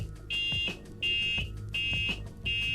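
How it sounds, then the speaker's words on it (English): A handheld backup buzzer spliced into a Tomberlin golf cart turn-signal bulb sounds four loud, steady electronic beeps, each about half a second, pulsing on and off in time with the flashing signal, heard close and alone. "You see when the light is energized, so is the buzzer."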